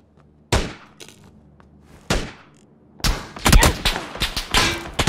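Gunfire in the video game PUBG, two sharp isolated shots followed by a rapid, loud burst of several cracking rounds with echoing tails, no voices.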